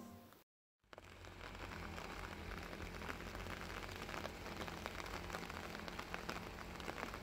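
Steady rain falls in an August flower garden with blooming hydrangeas, making an even, soft patter and hiss that runs on without break after a brief dropout near the start.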